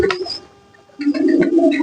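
Pigeons coo in short, close bursts, a soft throaty call followed by a brief pause and another round of cooing.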